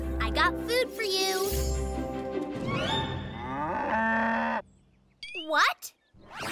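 A cartoon cow moos in long, loud, drawn-out calls in an animated children's train show, layered over music and followed by sliding cartoon effect sounds and a short speaking voice.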